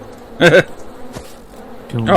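Bees drone in the farming video game Farm Together, a low buzzing bed broken by two short, louder voice-like bursts near the start and end.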